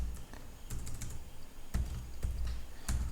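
Keys clack on a computer keyboard while code is typed, a quiet, close run of irregular taps with a few heavier strokes and no voices.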